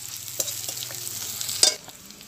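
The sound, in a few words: onion frying with ginger and garlic in a pan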